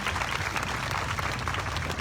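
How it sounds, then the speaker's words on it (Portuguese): Congregation clapping together at a church festival mass and novena, a steady dense patter of many hands filling the room, fairly loud and continuous with no talk over it. "Vamos aplaudir toda a família."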